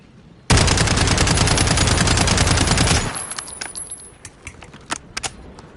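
A gun fitted with a muzzle brake fires in Call of Duty: a loud, rapid burst of automatic shots lasting about two and a half seconds, then fading echoes and scattered small clinks of falling shell casings.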